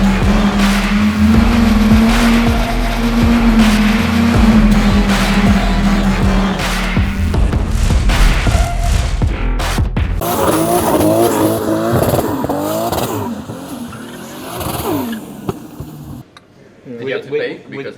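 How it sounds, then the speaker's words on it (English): A race car drifts with a loud engine roar and long squealing tires, then changes to rougher skidding and revving, with people talking over it. "now someone's got a bit of a race car, so we're gonna do some drifting shots."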